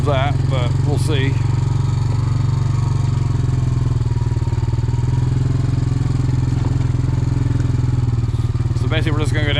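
A tractor engine runs steadily on a wooded trail being cleared, a loud continuous low drone throughout, with brief voices heard over it at the start and end.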